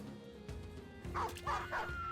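Dog barks from the video game Battle Brothers, a few short yips and woofs arriving in quick succession over a low steady game soundscape, moderately close.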